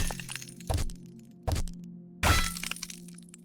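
Three separate crunching block breaks from a pickaxe in a blocky video game, spaced about a second apart and the last one loudest, over a quiet background drone.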